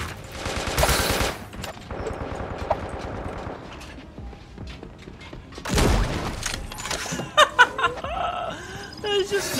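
A new sniper rifle in the video game Creative Destruction fires in several rapid bursts, with loud bangs in separate clusters and quieter game sounds and voices in between.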